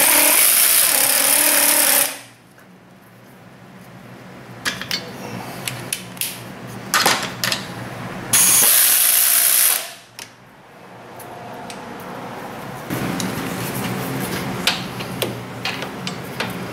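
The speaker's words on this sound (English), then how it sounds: "let's run the bolts in a little bit here" A power ratchet spins sway bar bolts into place on a Chevy Impala, sounding in short mechanical bursts with pauses in between, fairly close and loud against a quiet garage background.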